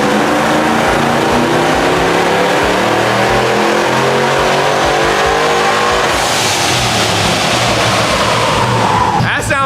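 A car engine revs hard on a dynamometer for its second pull, a loud sustained roar climbing steadily in pitch and holding near full throttle before cutting off abruptly at the end.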